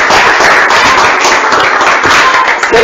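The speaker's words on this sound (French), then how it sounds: "Applaudissez bien fort pour ses frères." A hall audience applauding loudly and continuously, dense close clapping filling the whole stretch without a break.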